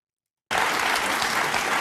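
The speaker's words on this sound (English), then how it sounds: "We're clapping for Steve Bannon when he lies now." Audience clapping for Steve Bannon: after a half-second of silence, a sudden dense burst of applause starts and stays loud and even to the end.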